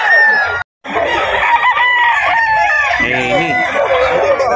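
Henny gamefowl with straight combs cluck and crow up close, several birds overlapping in a busy, loud chorus that runs almost without a break, with a voice faintly mixed in.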